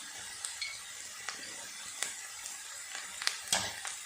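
Carrot, capsicum and chilies for rice noodles stir-fry in a pan with a soft, steady sizzle, punctuated by sharp, irregular clicks and scrapes of a utensil against the metal.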